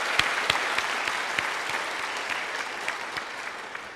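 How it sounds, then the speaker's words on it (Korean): A church congregation claps in encouragement during a Sunday service, a moderate, even spread of many hands with a few sharper individual claps standing out, fairly close and continuous. "우리 격려의 박수를 드리도록 하겠습니다"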